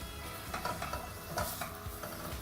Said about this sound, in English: So just give that a little stir, get a bit of heat into it again.